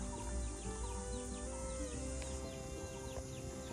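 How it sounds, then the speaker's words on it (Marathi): Village hens cluck and call repeatedly over a constant low engine-like hum, with a busy outdoor feel and no talking. "गावच्या कोंबड्या बघा"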